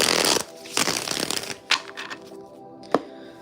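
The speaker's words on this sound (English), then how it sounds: "let me get a good shuffle here." Angel Tarot cards being shuffled in a close riffle-and-slide rhythm, with a dense burst at the start, a second run mid-clip, then sparse crisp snaps of cards against each other.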